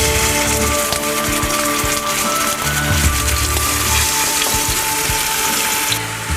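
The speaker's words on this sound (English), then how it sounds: "Just lightly fry the apple rings in the hot oil." Apple rings fry in hot oil in a small frying pan, giving a steady, close, even sizzle that crackles on without a break.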